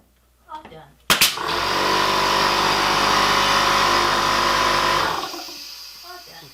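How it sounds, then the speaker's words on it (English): An air compressor kicks on loudly after a brief clatter, running steady and close for about four seconds before cutting off, during an interior oak door threshold repair. "Cut our compressor off."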